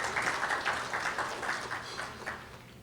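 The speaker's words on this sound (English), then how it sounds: "you can give a round of applause for us" An audience at a women's award show claps in a loose, moderately close patter of individual hand claps, fairly quiet and steady throughout with no talk over it.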